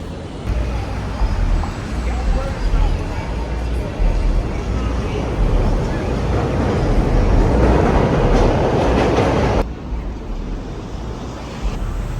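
A Chicago Blue Line subway train rumbles steadily along with broadband roar and rattling, loud and close, then the noise drops abruptly near the end as if a door closed.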